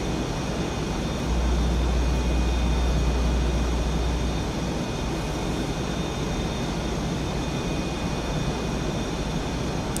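Jet engine roar of the VRS F/A-18 Superbug in a flight simulator game, a loud, constant broadband rush with a steady whine on top and a deep low rumble swelling briefly, no voices.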